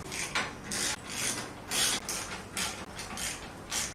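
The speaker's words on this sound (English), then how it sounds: "we're just going to use a 16mm socket to tighten these up" Ratcheting with a 16mm socket on the mounting bolts of a Mean Mother 4x4 Edge Series 2 winch: a series of close, rasping clicking bursts in an uneven rhythm, with short pauses between strokes and no talk.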